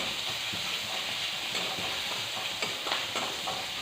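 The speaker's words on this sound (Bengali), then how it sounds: "যার কারণে আমার গায়ে তেল ছিটকে পড়ছে অনেকটা বেশি।" Hot oil spatters and sizzles steadily in a pan while prawns fry for a spicy prawn dish, a dense crackling hiss with scattered sharper pops, close and constant throughout with no talking.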